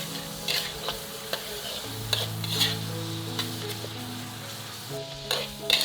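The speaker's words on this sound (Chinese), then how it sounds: "一边翻炒一边用锅铲像这样把粘在一起的肉末给它压散" Minced meat stir-fried over medium-low heat while a spatula presses the clumps apart, a close sizzle punctuated by sharp metal scrapes and taps against the wok at an uneven rhythm, with faint background hum and no talking.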